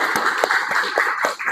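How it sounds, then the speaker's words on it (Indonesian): Short burst of audience clapping for a presenter in a mechanical engineering class, steady rapid hand claps from a small group in a room, close and fairly loud. "Kita beri aplaus dulu buat Mas Farhan."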